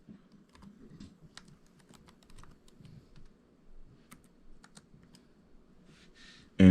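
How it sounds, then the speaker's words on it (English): Search words typed on a computer keyboard, a quiet, close run of irregular key clicks that continues alone before a sudden loud burst at the very end. "I go to my Google search bar and I type in civil rights restoration"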